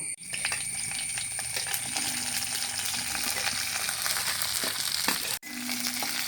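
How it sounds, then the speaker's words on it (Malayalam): Dried chilies, coriander seeds, shallots and curry leaves roasting in a pan, with a steady close sizzle and scattered light metallic clinks and scrapes from stirring, plus one sharp knock near the end. "കരിവേപ്പിലയും കൂടി ചേർക്കണം അതും കൂടി കൂട്ടി നമുക്ക് നന്നായിട്ട് വറുത്തെടുക്കാം"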